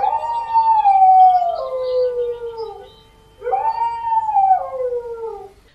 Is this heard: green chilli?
no